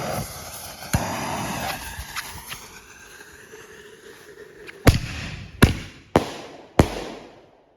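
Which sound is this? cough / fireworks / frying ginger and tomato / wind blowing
fireworks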